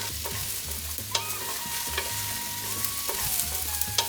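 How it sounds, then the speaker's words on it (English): Pumpkin sautéing in a pot makes a steady close sizzle, broken by a few sharp spatula scrapes and stirs at irregular intervals, with no talking. "we're going to saute this down until it gets caramelized on all sides"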